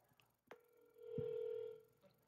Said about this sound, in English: Oh, whoops, I think I just called him by accident.